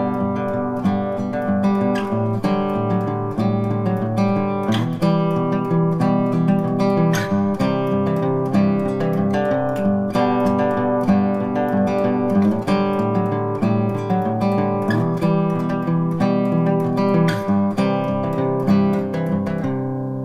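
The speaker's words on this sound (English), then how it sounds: "turn them into small mellow voicings like this. And I'm going to use like a nice fingerstyle rhythm," Guitar plays a chord progression fingerstyle in small, mellow voicings, with sustained ringing chords and steady plucked notes at an even, close, moderately loud level and no talking.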